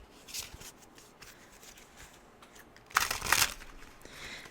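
Tarot cards being shuffled by hand, soft papery riffling that builds into a louder burst of flicking near the end.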